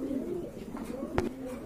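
A pair of all-black Beauty Homer pigeons give low, throaty coos close by, a steady murmuring call broken by one sharp brief click.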